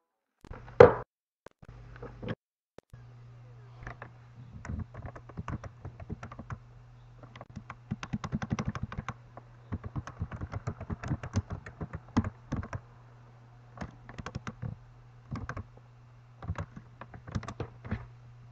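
A password being typed on a computer keyboard: quick irregular bursts of close, crisp key clicks with brief pauses, over a faint steady hum and with no speech.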